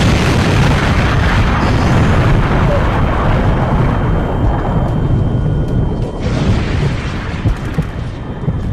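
Grenade and RPG blasts in a VR war game come as a loud, dense stretch of booming explosions and crackling debris. Low rumble continues under the hits, and shouting is faintly present.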